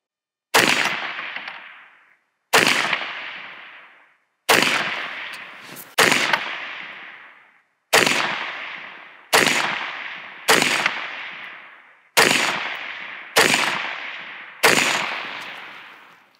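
A rifle fires nine sharp, loud shots at a range while a red dot sight is zeroed, each crack followed by a short decaying echo and spaced about two seconds apart, with no talk.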